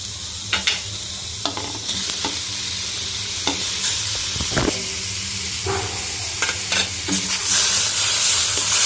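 Tomato dropped into reddened frying onions for dhaba-style matar paneer, hissing and sizzling steadily in the pan with scattered clicks of a spoon stirring and a brighter sizzle burst near the end.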